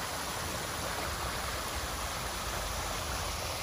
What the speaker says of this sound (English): Their waterfalls are so cool.